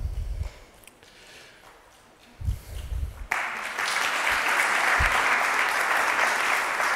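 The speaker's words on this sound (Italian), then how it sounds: "Un timido applauso sempre più crescente" Audience applause at a literary prize announcement, beginning faint and scattered, then swelling abruptly into full, sustained clapping from a large crowd that holds steady to the end.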